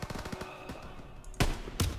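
Machine gun fire from the Call of Duty WWII video game, a fairly faint burst of rapid rattling shots, with two louder bangs near the end.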